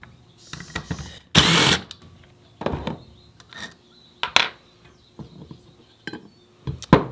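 Bolts being removed from the stator cover of a Honda CBR/VFR800 motorcycle engine: a run of sharp metallic clinks and ratchety taps at irregular intervals, close by, with one louder scraping burst and no talking.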